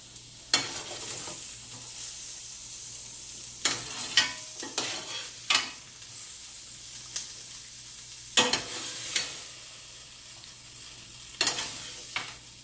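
Carrots and other vegetables sautéing in a soup pot are stirred, making a soft, constant sizzle broken by about half a dozen sharp scraping spoon strokes at irregular intervals.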